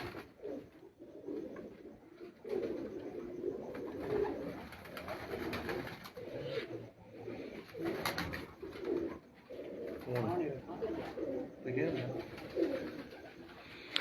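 Rooftop pigeons, flying breed birds, coo in low repeated throaty bursts close by, while someone talks over them.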